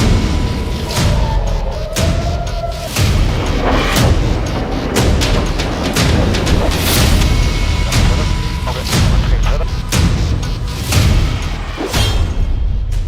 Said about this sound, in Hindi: ईरान ने इजराइल पर दागी बैलिस्टिक मिसाइल।